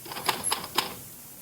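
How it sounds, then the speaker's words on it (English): Typewriter keys strike in three quick, crisp clacks typing out a phrase, close and fairly quiet, with no voices. "You are typing the same phrase."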